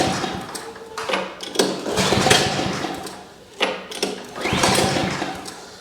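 An Ariens snowblower that has run out of gas, tried twice with a recoil pull, each try a loud mechanical rattle and whir that fades without the engine catching.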